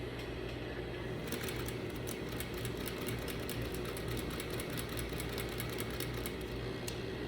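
A sewing machine runs a topstitch and turns at a corner with the needle left down, giving a constant, close mechanical hum and rapid needle patter throughout.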